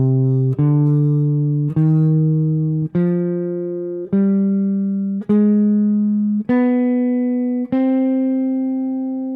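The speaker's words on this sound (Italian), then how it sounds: "La prossima scala è la minore armonica." A harmonic minor scale picked slowly on guitar, eight clean single notes climbing stepwise at an even pace, each ringing and decaying before the next, with no talking.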